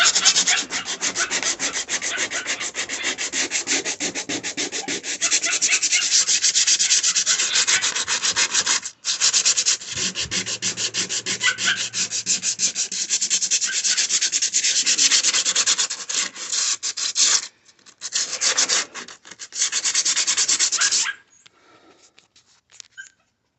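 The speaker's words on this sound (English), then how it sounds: "So I'm just gonna sand it off a little bit, not much." Hand sanding on a plastic car bumper during a hole repair, a steady scraping rub that keeps going for about twenty seconds with short pauses, then stops near the end.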